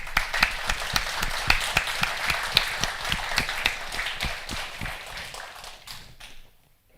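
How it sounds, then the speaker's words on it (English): Audience applause after thanks to contributors at an open source project community talk: a dense stretch of many hands clapping with sharp individual claps standing out, steady and fairly close, tapering off and fading to quiet at the end. "If you'd like to join me in a round of applause."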